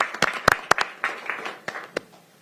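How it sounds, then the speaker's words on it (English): Applause at a county council meeting, a scattered handful of claps of uneven rhythm, a few sharp and close, tapering off within a couple of seconds. "Let's give them a round of applause for their work."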